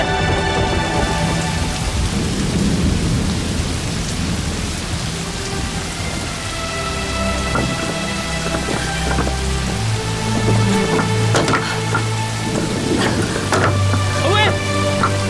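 Heavy rain pours steadily in a period drama storm scene, with low rumbles of thunder rolling through and layered music-like tones, no speech over it.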